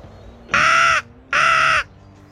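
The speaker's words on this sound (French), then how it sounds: "J'aperçois 3 corneilles au loin qui viennent droit sur moi." Two loud, harsh crow caws close by, each about half a second long and separated by a short pause, during a crow hunt protecting crops.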